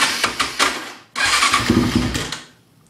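An engine being cranked to start, with repeated short cranking bursts, a brief pause, then a longer loud rumbling attempt that fades out, close by with no talk.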